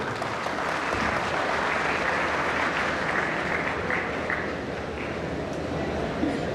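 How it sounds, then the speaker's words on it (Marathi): Sustained, loud audience applause for the teachers at a college gathering, a dense, even wash of many hands clapping that holds steady throughout with crowd noise underneath. "आपण एकदा या सर्व शिक्षकांसाठी जोरदार टाळ्या वाजवूया"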